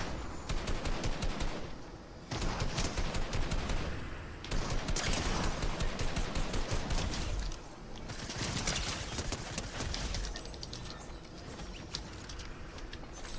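Shotgun fire in the Fortnite video game, with dense, continuous bursts of loud shots and action noise that keep going throughout with only brief dips between volleys.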